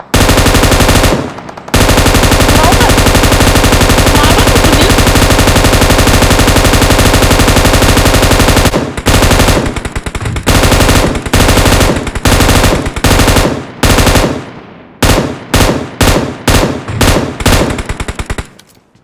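Automatic gunfire in the mobile battle royale game PUBG Mobile: a long, loud continuous burst, then a string of shorter bursts with brief gaps, harsh and close.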